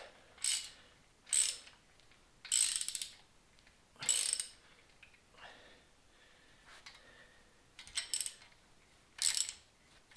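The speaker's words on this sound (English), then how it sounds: "As you're tightening it, it's going to get harder to ratchet" A hand ratchet tightens a bolt on a Nova's front suspension control arm, giving several bursts of quick metallic clicking separated by pauses, fairly close and with no speech.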